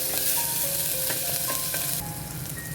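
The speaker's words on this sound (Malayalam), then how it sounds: "അതിലേക്ക് ജിഞ്ചർ ഗാർലിക് പേസ്റ്റ് ഇട്ട് നന്നായി ഇളക്കുക" Ginger garlic paste spits and sizzles in hot oil in a cooker, a loud, dense frying hiss with rhythmic stirring scrapes and clinks throughout.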